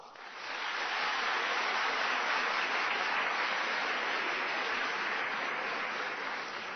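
A large audience applauding at an arts advocacy day lecture in Washington, a steady, dense wash of clapping that swells in quickly and holds evenly, with no voices heard over it.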